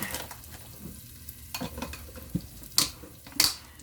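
Beef sautés in a pan with cooked celery, a soft sizzle broken by several sharp scrapes and clinks of a utensil stirring against the pan, close by, with no talk.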